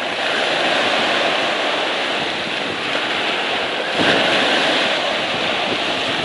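Close, loud sea waves break along the Black Sea shore at Adler, Sochi, with a constant roaring wash and a sharper crash near the end, plus some wind buffeting and no speech.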